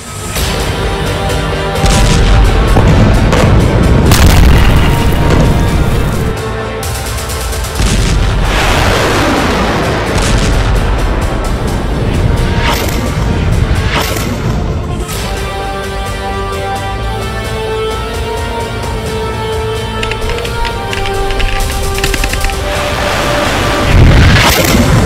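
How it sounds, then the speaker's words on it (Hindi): Bunker buster bomb explosions, a series of very loud, deep booms and blasts, each followed by a long rumbling decay, spread across the clip with no speech. "ये ऐसा बम है जो जमीन के 60 मीटर अंदर जाकर धमाका करता है।"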